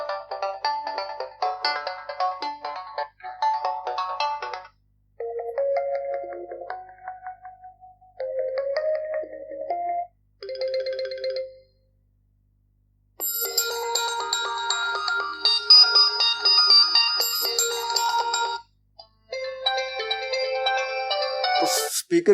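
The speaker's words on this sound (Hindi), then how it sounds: "तो स्पीकर की क्वालिटी काफ़ी ज़बरदस्त है।" Several ringtone melodies play in turn from a Realme C12 phone speaker, bright electronic tones in short bursts separated by brief silences, loud and clear with no talking.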